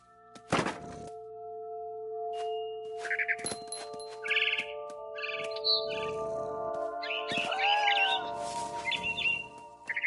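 A scared barn swallow chirping in the video game What Remains of Edith Finch, bursts of faint high twittering separated by soft thunks and dings over quiet game ambience.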